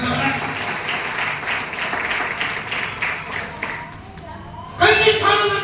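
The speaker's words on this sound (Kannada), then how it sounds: "ಚಪ್ಪಾಳೆ ತಡಬೇಕು" A church congregation claps in a rhythmic burst, fairly loud and close, with a voice speaking over it before the clapping fades out.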